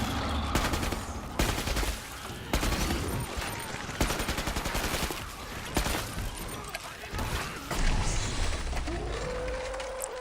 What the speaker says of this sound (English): I should actually probably be shooting stuff.